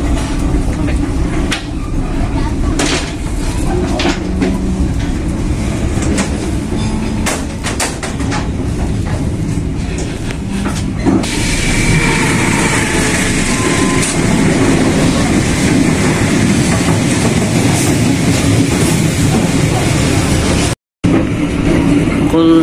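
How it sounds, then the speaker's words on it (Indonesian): A Serayu passenger train passes close by on double track with a loud, continuous rumble and rhythmic wheel clatter. Someone talks over it, and it cuts off abruptly near the end. "Sebentar lagi kereta api Serayunya akan melintas di depan saya ini"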